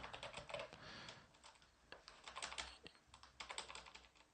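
Rapid, uneven keystrokes on a computer keyboard while a PowerShell script is typed, close and fairly quiet, with steady clicking throughout and no voices.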